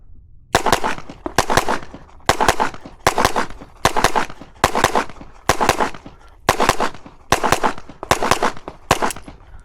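Smith & Wesson M&P 2.0 pistol fired at a shooting range: about ten evenly spaced bursts of sharp, loud shots, each a quick string of reports, with brief gaps between them.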